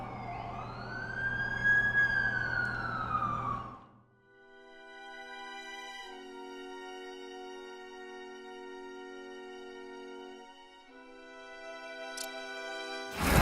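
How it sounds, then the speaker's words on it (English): An ambulance siren sounds in the game The Amazing Spider-Man 2, first as a loud wailing tone that fades out, then as a steady layered horn-like tone that holds before cutting off in a burst. "That's the ambulance I called."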